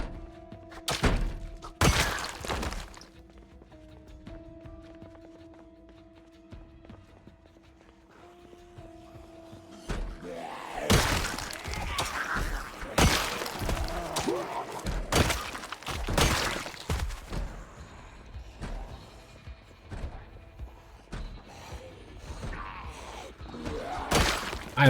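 Repeated heavy thuds and cracking bangs against doors in the video game Project Zomboid, coming in irregular clusters of loud impacts, with a steady tone early on and denser pounding later.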